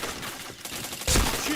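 Gunfire in a shooting video game, with a burst of loud, sharp shots near the end following quieter rattling shots and faint voices earlier.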